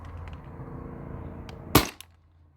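A modified Valken M17 A2 airsoft rifle running on an HPA tank fires a single sharp, close crack over a low background hum.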